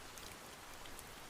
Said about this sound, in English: Rain begins before dusk.